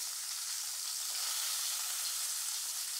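Onions sautéing in oil for egg curry, a steady, even hiss of frying with no stirring strokes or other sounds.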